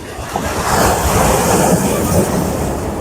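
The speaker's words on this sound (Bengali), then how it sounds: "বড় ঢেউ আসছে এটা" A large sea wave rolling in on the beach at Digha, a loud surging wash that swells and holds with wind buffeting the microphone, no talk over it.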